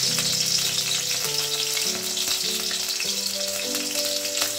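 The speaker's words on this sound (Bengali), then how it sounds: "আলুগুলো কিন্তু এবার আমি ভেজে নেব।" Potatoes fry in a pan, a loud, dense crackling sizzle filling the whole stretch alone, with a layer of steady music behind it.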